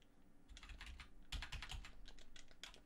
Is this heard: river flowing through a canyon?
no